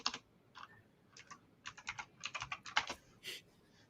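Typing on a computer keyboard, heard close up as irregular bursts of crisp keystrokes separated by brief pauses, with no voices.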